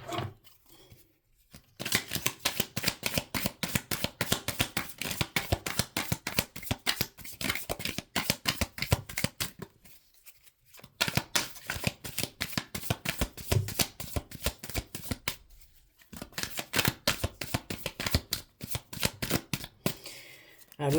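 Light Year Tarot cards are riffled and shuffled up close in long bursts of rapid flapping clicks, with short quiet pauses between rounds.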